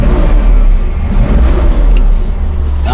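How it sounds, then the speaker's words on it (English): An old Mercedes car engine running and revving, a loud, close, steady mid-pitched engine rumble with slight rises in revs throughout. "Sounds pretty nice for an old Mercedes."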